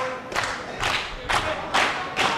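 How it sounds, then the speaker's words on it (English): A wrestling crowd at a live 3PW event roars and cheers in rhythmic surges, loud, broad waves rising and falling several times with scattered clapping and shouts. "These fans making some noise."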